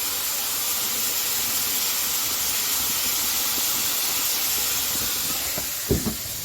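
Strong firewood cooking fire hissing steadily and loudly throughout, a broad roaring rush like steam, with a couple of brief cracks near the end.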